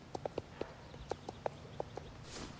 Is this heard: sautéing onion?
no